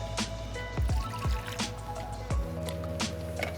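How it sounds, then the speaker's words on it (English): Water from half a can is poured into a pan of crayfish, coconut and turmeric curry, making close, wet glugging splashes, squishy drips and trickles. No speech is heard. "add half a can of water"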